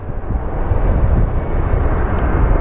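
An Embraer jet airliner comes in to land at Phoenix Sky Harbor as a loud, rumbling low roar buffeted by wind.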